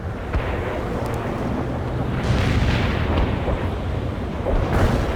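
Artillery fire support striking in World in Conflict, a dense, continuous roar of rumbling blasts and explosions that swells louder partway through, heavy and close with no gaps.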